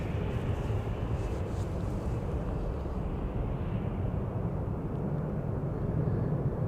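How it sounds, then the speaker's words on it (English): KLM Boeing 737-700 at Amsterdam Schiphol Airport, a steady broadband jet roar at a distance, fairly faint and unbroken, with a low rumble beneath and no clear rise or fade. "And we have an airplane to Billund coming this way."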